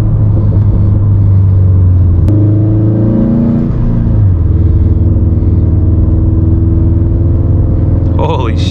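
A turbocharged 400 whp Subaru STI running on E85 fuel accelerates hard, its engine drone rising loud and close with a shift dip partway through, while a driver talks over the rumble.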